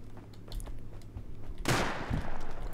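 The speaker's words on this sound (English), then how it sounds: "he headshot me with a bolty" A bolt-action rifle fires in the Rust video game, a single sharp, loud crack that bursts out and then trails off into a rough, noisy tail after a quieter stretch of faint clicks and rumble.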